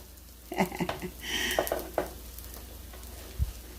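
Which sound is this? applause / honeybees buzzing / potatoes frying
potatoes frying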